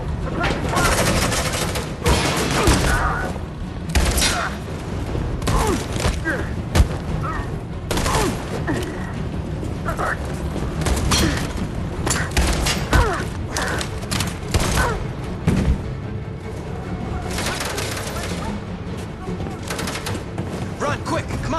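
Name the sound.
gunfire in the video game Detroit: Become Human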